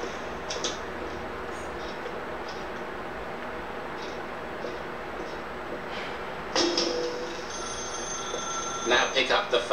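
A telephone rings in the video game The Stanley Parable, a repeated electronic bell appearing late in the scene, loud and bright over a steady ambient background after a narrator's voice.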